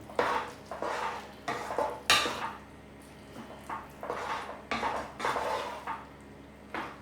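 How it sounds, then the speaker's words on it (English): A spoon stirring cream into a chicken, ham and mushroom pie filling in a pot, a series of soft, wet scraping strokes with metallic clinks against the pan, quiet and close with pauses between strokes. "A dash of cream, give it that creamy flavour and that lighter white colour. Stir it all through."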